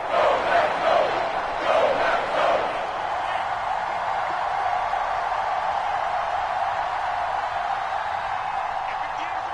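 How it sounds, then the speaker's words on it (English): A stadium crowd in a Madden football video game swells with rising cheers and roars for a few seconds, then settles into a steady, distant crowd hum. "the crowd getting into it as we come up on a big 3rd down"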